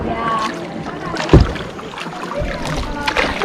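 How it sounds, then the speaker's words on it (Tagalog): Kayak paddling at sea off El Nido, with a strong paddle splash near the middle over steady water and wind noise, plus faint background voices. "Kayaking again."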